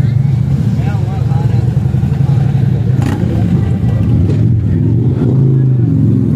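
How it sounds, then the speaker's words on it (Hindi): Group of motorcycles revving as bikers depart a gathering in Haripur: a loud, steady engine drone with rising and falling revs close by, under continuous talk from people. "सारे बाइकर्स अभी जा रहे हैं, रवानगी हैं।"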